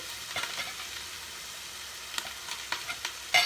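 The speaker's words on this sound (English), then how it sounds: "So kids, you can use a wooden spoon, and we're going to mix." Vegetables sprinkled with spice mix cook in oil as a wooden spoon stirs them, giving a faint steady sizzle with a few soft scraping knocks near the end; no one speaks.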